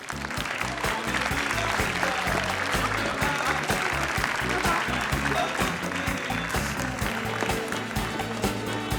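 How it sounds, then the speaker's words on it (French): Audience applauding at a university graduation ceremony for business degree teachers, steady dense clapping that fills the whole stretch at a constant loud level, with a hint of voices mixed in. "on va les applaudir encore une fois"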